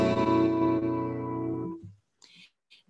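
Guitar in a self-made alternate tuning, a single open strum ringing full and shimmering, then fading away over about two seconds, followed by a couple of faint breathy sounds.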